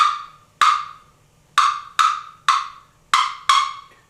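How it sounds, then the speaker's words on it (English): Sharp turkey hen cutting calls on a Primos box call: seven loud, abrupt clucks in an irregular rapid series, each a crisp raspy strike that rings and fades, alone with no talking. "She'll start cutting, and what she's saying is, I hear you, where are you?"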